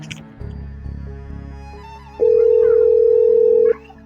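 A loud, steady electronic phone tone holds for about a second and a half over a low, rumbling background.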